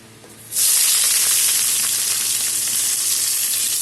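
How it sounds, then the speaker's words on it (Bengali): Chopped onion hits hot oil already spiced with a bay leaf, dried red chillies and whole cumin, bursting into a loud, steady sizzle after about half a second of quiet and holding it close and strong to the end. "পেঁয়াজটা একটু ভাজা হবে"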